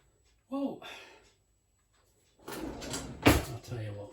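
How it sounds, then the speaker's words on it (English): Kitchen drawers slide open and shut with a wooden rattle and a sharper knock near the end, heard close, with a short voice between the movements. "I think we've changed drawers again."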